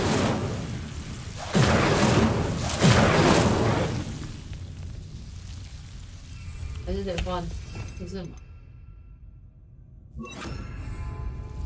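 Incendio fire spell cast in the Hogwarts Legacy video game, heard as a few loud whooshing magical bursts followed by softer chiming, crackling effects, with a character's voice in the game audio.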